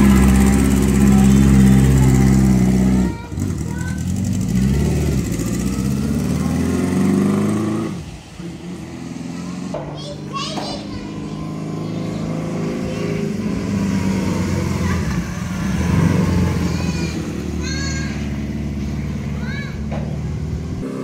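A small engine of a 1969 Honda Mini Trail motorcycle putters and revs steadily close by, with people talking over it throughout.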